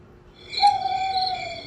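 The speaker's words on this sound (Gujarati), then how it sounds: "ઘુવડનો અવાજ સાંભળો." A single owl call, a clear sustained hooting tone that rises in and holds steady for about a second, heard alone and fairly close with no talking.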